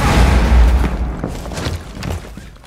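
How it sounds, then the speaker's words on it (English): In Rainbow Six Siege, a grenade goes off with a loud, deep boom that rumbles and decays over a couple of seconds, with faint debris crackle trailing after. "I'm gonna go ahead and nade the fuck out of this castle"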